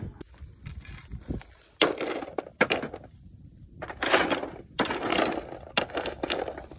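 Roasted cashew nuts, not fully dried, are cracked open by hand, a series of sharp, close crunching and cracking bursts spaced irregularly with quiet gaps between them.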